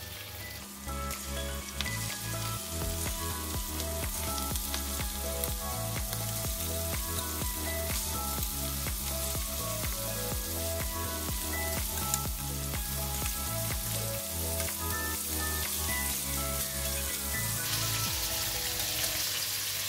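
Prawns fry in about two tablespoons of cooking oil in a hot pan for a stir fry with cabbage, a dense, steady sizzle with crackles throughout and an underlying low rhythmic hum, close and continuous without talk.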